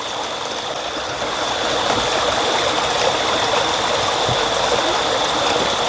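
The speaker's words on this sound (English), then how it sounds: "And then you just pour it out in the bottle." Homemade Jamaican apple juice poured from a container into a bottle, a steady continuous trickling and splashing of liquid, close and even in level throughout.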